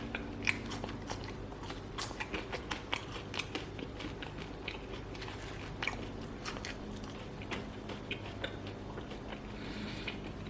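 Close, crunchy bites into crispy air-fried fries from a Khind ARF26 air fryer, with steady chewing and repeated sharp crackles over about ten seconds and no talking.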